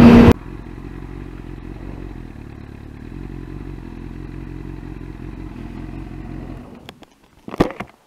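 A motorbike ridden up near Loch Lomond toward the Green Welly Stop hums along at a steady, close drone for several seconds, then cuts out and leaves a few brief knocks and clatters.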